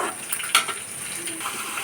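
Fish pieces fry in a pan, giving an even, close sizzling hiss with one brief sharper crackle partway through and no talking.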